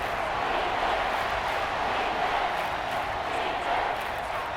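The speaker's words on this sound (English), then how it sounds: "this crowd doing their best to make a lot of racket" A football stadium crowd at an NFL preseason game between the New England Patriots and Washington Commanders roars in a dense, steady wash of noise, loud and sustained throughout.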